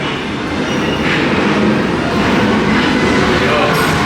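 A roller coaster train at a station at Six Flags Magic Mountain gives a loud, continuous rumbling roar, a steady broadband rush with no clear pauses, heard close by.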